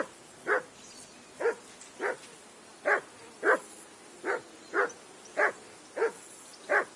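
A dog in the video game Kingdom Come: Deliverance 2 barks repeatedly, about ten sharp single barks at a steady, slightly uneven pace, moderately distant and standing alone against quiet ambience.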